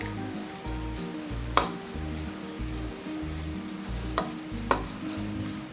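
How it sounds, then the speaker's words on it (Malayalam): Rice flour batter stirred into boiling jaggery and coconut milk gives a rhythmic scraping stir with a soft bubbling sizzle, plus a few sharp clinks of the spoon against the pan. "അപ്പോൾ ഒന്ന് ഇളക്കിയിട്ട് ഒന്ന് ഒഴിക്കുക കേട്ടോ"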